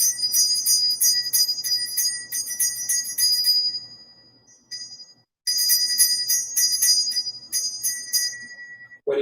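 Bright metallic wedding bells ring in quick repeated strikes, pause briefly, then resume with the same rapid ringing pattern.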